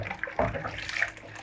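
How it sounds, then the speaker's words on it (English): Warm water splashing while oily kitchen utensils are washed by hand, a steady wet sloshing with brief louder splashes, close by. "The warm water makes it very easy to wash the oily stains."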